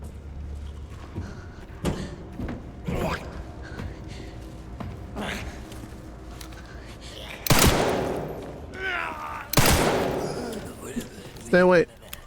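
Gunfire in the video game Requiem: a few sharp shots scattered early on, then two louder, longer bursts of firing around the middle, with voices talking in between.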